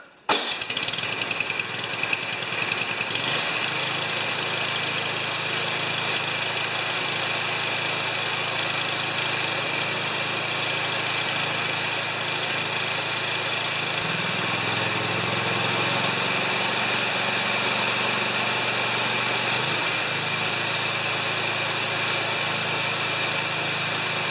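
A Mastercraft 8-26 snowblower engine with a running fault catches almost immediately and then runs steadily near the listener, a continuous loud small-engine drone with slight shifts in pitch and load.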